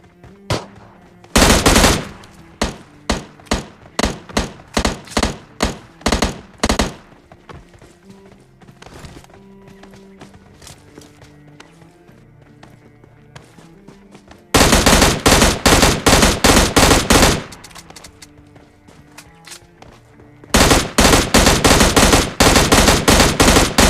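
An M16 rifle in PUBG Mobile Lite fires in loud, rapid bursts of closely spaced shots, separated by quieter stretches of game ambience and distant shots.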